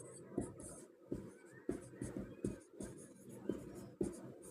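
Pen or chalk writing out a Class 10 math equation, a series of short scratchy strokes and taps in an irregular rhythm, close and clear with no talk over it.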